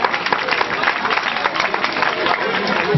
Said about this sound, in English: Let us clap him hand for that boy, please.